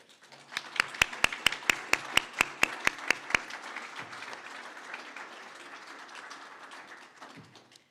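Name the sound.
applause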